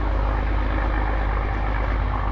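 Rlaarlo AK787 RC dump truck with a dual ESC and dual motor setup, running with a loud, steady broadband whir and rumble that holds constant and close throughout, with no talking.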